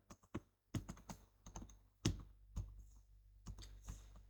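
Typing on a computer keyboard during a Microsoft Word exercise, irregular bursts of close, crisp key clicks with short pauses between words.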